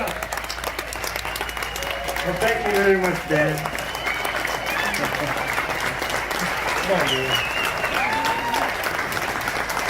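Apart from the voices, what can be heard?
audience applause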